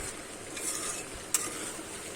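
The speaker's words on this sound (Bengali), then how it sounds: "আর একটু আমি নেড়ে চেড়ে রান্না করে নেব।" Ridge gourd and potatoes cook in a pan with a faint steady sizzle and soft stirring scrapes, one brief sharper clink, quiet and without talk.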